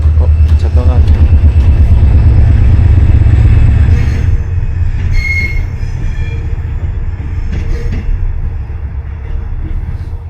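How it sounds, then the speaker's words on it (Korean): The V-Train, a scenic mountain canyon train, pulls away from Buncheon station with a loud, close, heavy rumble and clatter of wheels that eases slightly as it departs, with faint wheel squeal overhead. "기차 떠나네요."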